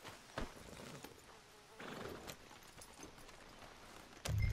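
Horses in the Red Dead Redemption 2 video game, with a few scattered hoof clops and snorting bursts heard close and fairly quiet, ending in a louder thump.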